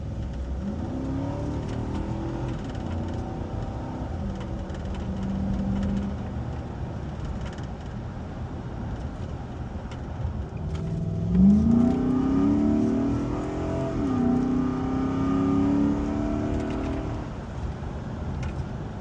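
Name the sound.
2010 Nissan Armada engine revving with K&N cold air intake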